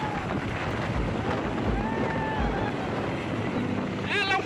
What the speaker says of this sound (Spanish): el viento está muy fuerte,